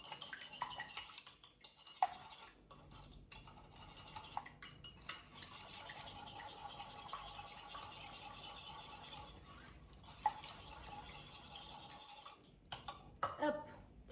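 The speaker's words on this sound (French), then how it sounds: "Tu mélanges." Eggs being mixed in a bowl with a utensil, a quiet, continuous rapid clicking and scraping of whisking against the bowl, with a few louder knocks, fairly faint.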